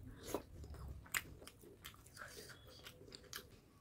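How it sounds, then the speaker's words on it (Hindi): Close, quiet biting and chewing of spicy chicken leg curry, a couple of sharp crunchy bites followed by soft mouth sounds, with no talking. "ये रहा मेरा लास्ट बाइट"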